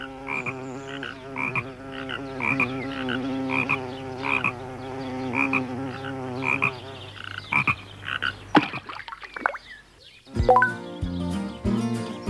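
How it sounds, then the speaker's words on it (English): A frog croaks steadily by a pond, a repeated rhythmic call that carries on for several seconds before giving way to other sounds, including a short musical passage near the end. "On Saturday, Tom saw a frog in the pond."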